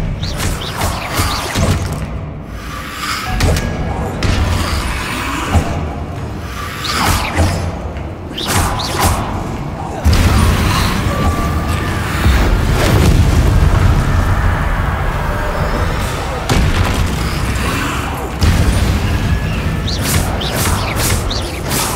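Magic spell effects from Hogwarts Legacy on PC, a dense run of booms, whooshes and crackling bursts layered over a rumbling game soundscape, loud and continuous, swelling heavier in the second half.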